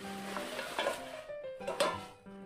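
A Kaisa Villa cookware pot lid with a gold-coloured handle is handled, giving soft metallic clinks and a ringing tone over a few light knocks, close by.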